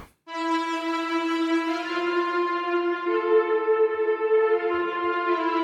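Heaviosity's Mosaic pad synth plays rich, bright sustained chords that swell in and hold, shifting to a new chord partway through, smooth and continuous with a faint shimmer and no voices.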